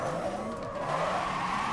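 A Hummer EV drifts in a racing video game, its tires squealing in a long, wavering skid over a steady engine drone.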